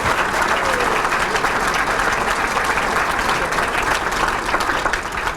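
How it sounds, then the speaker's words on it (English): Sustained audience applause fills a sports hall of fame induction, dense steady clapping at even loudness throughout with a few voices mixed in the crowd. "you guys need to clap it up for my wife"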